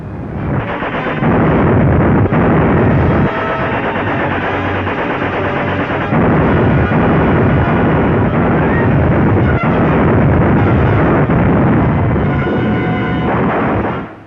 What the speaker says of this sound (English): German ships bombarded Westerplatte, the Polish port outside Danzig.